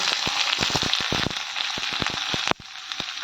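Curry leaves, onion, tomato, peas and carrot fry in oil for masala oats, giving a close, steady hiss with frequent small crackles and pops that drops off sharply near the end.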